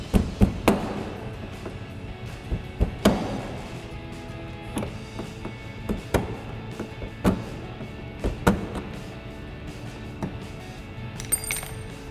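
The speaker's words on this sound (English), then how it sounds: "We're just gonna grab our flathead screwdriver and just tap it off" A flathead screwdriver tapping a spring clip off a mud flap on a 2014-2024 RAM 2500, a steady series of sharp metallic taps and knocks, close and fairly loud, with no talking.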